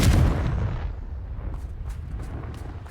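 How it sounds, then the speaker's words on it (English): A Confringo fire-blast spell explodes in Hogwarts Legacy, a loud, deep booming blast that hits at once and rolls off into a fading rumble, followed by faint crackles. "Confringo!"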